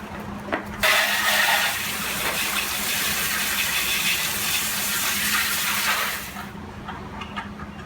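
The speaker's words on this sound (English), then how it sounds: "time to hose her down" Hose spray rinsing an Audi S4 engine bay: a steady, loud rush of water begins abruptly and hisses continuously for several seconds before cutting off, leaving quieter background noise.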